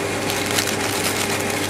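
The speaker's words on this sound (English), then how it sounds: "Tumble dryer just came on next to me." A tumble dryer runs close by in Japan, a constant dense whooshing and rumbling noise with no pauses, steady in loudness throughout.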